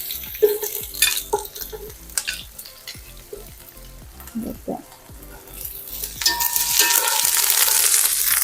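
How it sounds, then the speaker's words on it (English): Onions sauté in hot oil for a Chinese-style veggie lo mein, a steady close sizzle with intermittent stirring and utensil scrapes that swells louder toward the end. "So we're going to saute our onions."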